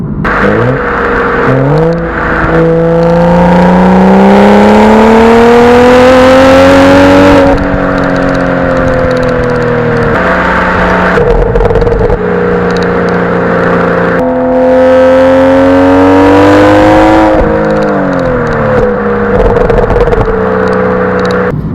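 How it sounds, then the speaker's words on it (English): A BMW M235i with the optional BMW M Performance exhaust revs loudly in several long pulls, its pitch climbing and falling with a deep, burbling rumble between revs. "This has got the optional BMW M Performance exhaust as well."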